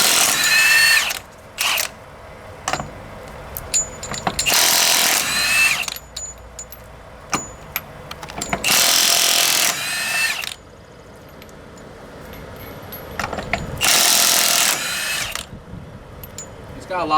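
A Milwaukee FUEL brushless 1-inch cordless impact wrench hammers off nuts in several loud, close bursts of rapid rattling impacts, separated by quieter gaps with clicks and handling noise.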